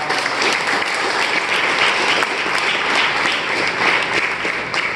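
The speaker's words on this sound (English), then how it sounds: "give all of our volunteers a big round of applause" A hypnosis show audience applauds its volunteers in steady, dense clapping that stays loud and even for the whole stretch, with no voices rising above it.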